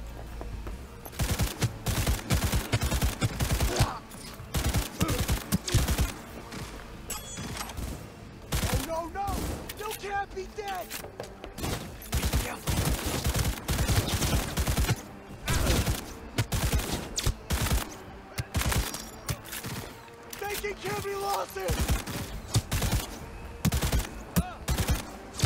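Rapid automatic gunfire from Cyberpunk 2077 rattles in dense, sustained bursts with short gaps, loud and close throughout, with occasional voices mixed in.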